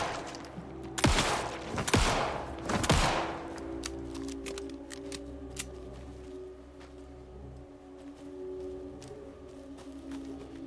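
Gunfire in the video game Alan Wake II: three sharp shots early on, then a steady scatter of fainter rapid cracks over a low ambient hum, with no talking.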